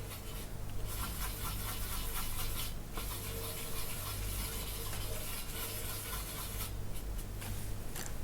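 Crimson crayon rubbed onto paper while filling in a tartan pattern in an Outlander colouring book, a continuous scratchy stroking texture heard close up, with brief pauses between strokes.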